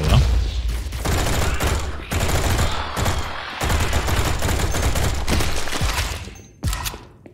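Rapid automatic gunfire from a weapon in the first-person shooter Project Warlock 2 crackles in long sustained bursts with brief gaps, loud and close.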